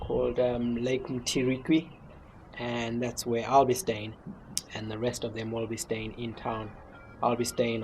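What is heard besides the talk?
None of the usual background noises is heard.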